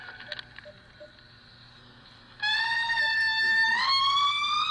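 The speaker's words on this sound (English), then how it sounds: "it is an Indri. It's the sound of one of my favorite animals on the planet" Recorded call of an indri lemur played back in a lecture hall, a loud wailing, siren-like tone that starts abruptly after faint room noise and holds steady with a slight rise.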